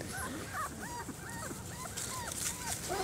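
Puppies whimper and yip close by in a string of short, rising whines, steady and fairly soft, over a constant outdoor background.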